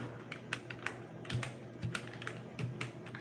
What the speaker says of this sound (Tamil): இப்போது வெஜிடபிள்ஸ்னு டைப் பண்ணலாம்